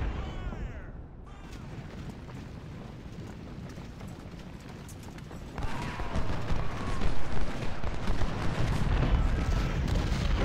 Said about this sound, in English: Got a canister shot at us, but we got that cannon.